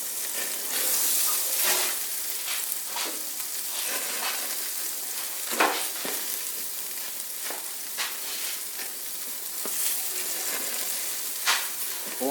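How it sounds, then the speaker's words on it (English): Jalapeno jack cheese sizzles as it melts on a BBQ grill, a steady close crackling fry dotted with sharper pops throughout. "All I'm doing right now is melt the cheese."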